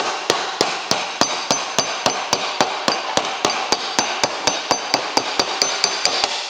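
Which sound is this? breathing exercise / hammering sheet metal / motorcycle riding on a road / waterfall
hammering sheet metal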